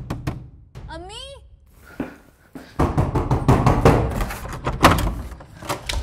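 Knocking on a door in a Pakistani TV drama scene, with a quick run of repeated knocks heard alongside a voice calling out, fairly loud and close.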